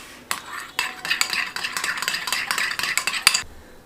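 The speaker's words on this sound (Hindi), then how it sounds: "तो अब मैं इसको अच्छे से मिला लूँगी।" A spoon stirs burger sauce of mayonnaise, chili sauce and ketchup in a bowl, producing a busy run of close, clinking and scraping strokes against the bowl for a few seconds before stopping abruptly.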